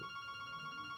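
A telephone rings on a radio show set, its steady electronic tone holding continuously for a second with no talk over it.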